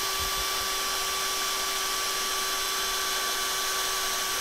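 A drill bores a hole through a tough acrylic blank, giving a steady, high whine with a strong, unchanging tone and a faint hiss, close and continuous.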